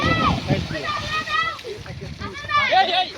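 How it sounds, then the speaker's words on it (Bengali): Children jump and splash in clear water, with continuous sloshing and splatter close by and excited young voices talking and shouting over it. "এই স্বচ্ছ পানিতে বাচ্চারা লাফালাফি করছে"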